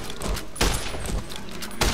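Gunfire in Fallout New Vegas: loud, close shots arrive in a few heavy blasts spread across the moment, each with a booming tail, and no talk over them.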